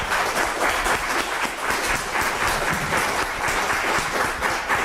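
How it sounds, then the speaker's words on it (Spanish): An audience applauds a doctor at a ceremony and talk event, clapping dense and continuous for about five seconds. The sound is moderately loud and even, with no voices over it. "Un aplauso, por favor"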